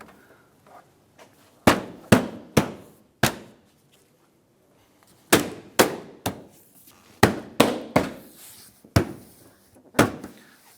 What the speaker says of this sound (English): Now we can raise our bumper into place.